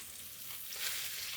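Butter and vinegar sizzle and crackle steadily in a hot, oiled pan, a soft continuous hiss heard up close.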